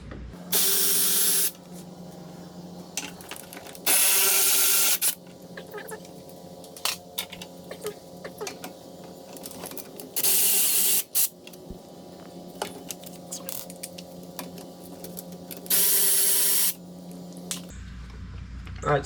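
A power tool, likely an impact wrench, removes 10 mm bolts on a 1998 Honda Accord during suspension work, firing four loud bursts about a second long, with ratchety clicks and metallic clatter between them.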